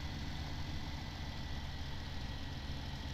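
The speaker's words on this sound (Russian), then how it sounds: "Ну и трактор небольшой." An old, small Case tractor in Farming Simulator 17 runs with a steady low engine drone and rumble, constant and unbroken with no talking.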